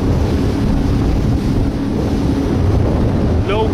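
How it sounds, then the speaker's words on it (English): Heavy, steady wind buffets the microphone in a continuous roar while riding a jet ski at Long Beach, with splashing water and a faint engine underneath. "A little windy, but hey, it is what it is."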